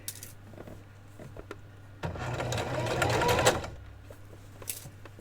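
A sewing machine stitching a quarter-inch seam on a Barbie doll dress bodice gives a soft hum with faint clicks, then a two-second burst of rapid, close mechanical whirring and stitching chatter before settling back to quiet idle.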